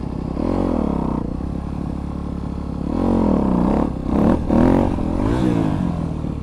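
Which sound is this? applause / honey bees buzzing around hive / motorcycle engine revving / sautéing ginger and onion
motorcycle engine revving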